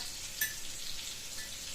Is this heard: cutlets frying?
yes